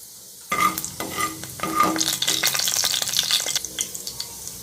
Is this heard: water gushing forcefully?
no